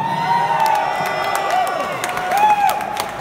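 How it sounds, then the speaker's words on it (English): A theater crowd at a live hip-hop show applauds and cheers loudly, with sustained clapping, scattered whoops and shouts filling the room continuously. "Give him a round of applause."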